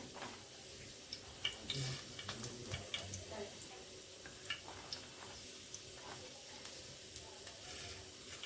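Mustard seeds sizzle in hot oil in a pan on a gas stove for a cabbage and carrot mixed vegetable dish, a faint, steady crackle with scattered small pops.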